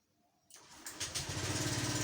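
A Honda Vario 125 scooter engine fires up on the electric starter after a quiet moment, catching with a whir and settling into a steady, pulsing idle close by.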